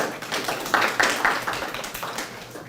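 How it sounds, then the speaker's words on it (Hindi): Audience clapping for primary teachers during a talk on mental health, a steady patter of many hands, moderately close, peaking in the middle and gradually tapering off. "उनके लिए तालियां बजाया जा रहा।"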